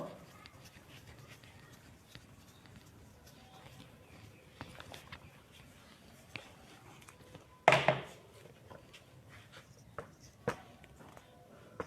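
Pen or chalk scratching out a math problem during a classroom lesson, with soft intermittent writing strokes, one sharp knock partway through, and faint speech in the background.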